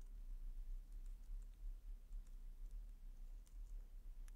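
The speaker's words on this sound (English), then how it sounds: "if we type something here" Keys on a computer keyboard being typed in short, faint clicking taps over a low steady hum, soft and sparse with no talking.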